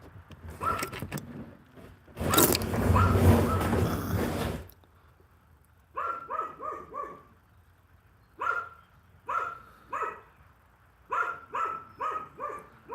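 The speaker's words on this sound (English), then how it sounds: "sorry about my dog going crazy about something out there" A dog in a workshop barks repeatedly in short bursts, loud and fairly close, separated by pauses, after a harsh burst of noise near the start.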